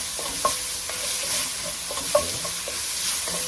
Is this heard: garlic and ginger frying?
yes